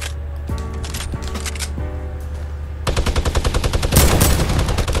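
A heavy assault rifle fires in a shooter video game, starting with a few spaced single shots over a steady background hum, then breaking into a loud rapid automatic burst that grows denser toward the end.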